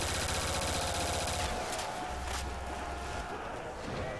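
Pack-a-Punched AK rifle firing in a Rust zombies video game, fast continuous automatic bursts with brief pauses, loud and dense under game background noise.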